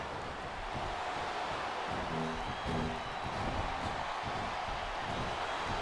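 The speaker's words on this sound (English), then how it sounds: "Sounds like this crowd's got something on their minds, King." A large wrestling crowd murmurs and roars steadily in a big arena in the video game WWE SmackDown vs. Raw 2007, a continuous wall of noise with a brief tonal blip partway through.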